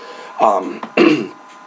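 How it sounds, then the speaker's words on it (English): Someone clears their throat twice in quick succession, two short rough bursts close to the microphone with brief quiet around them. "Gotta clear my throat."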